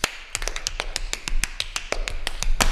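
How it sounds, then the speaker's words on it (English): Tap shoes strike a hard floor in quick, crisp, syncopated steps, a steady run of bright clicks close up with no talking. "Tap dancing."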